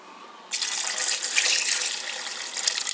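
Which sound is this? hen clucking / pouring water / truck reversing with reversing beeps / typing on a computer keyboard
pouring water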